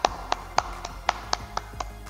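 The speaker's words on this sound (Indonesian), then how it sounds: "Beri tepuk tangan." Classroom clapping in a vocational school lesson, about eight sharp, evenly spaced claps in quick rhythm, close and fairly clear.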